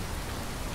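Steady rain in Fallout 4 hisses as a dense, even wash of noise with no breaks, no individual drops standing out, and no voices over it.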